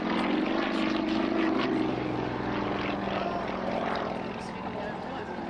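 A propeller-driven aerobatic aeroplane performs at an airshow, its engine droning loudly and steadily with a wavering pitch as it manoeuvres, slowly fading somewhat toward the end.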